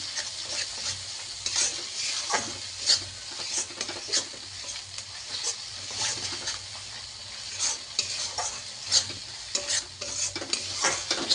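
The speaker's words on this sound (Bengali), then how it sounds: "এটাকে এবার আমি একটু ভালো করে কষাবো" A mustard and poppy seed paste is stir-fried in oil in a pan, giving a steady close sizzle under constant scraping of a spatula, with frequent sharp clicks and taps from the pan.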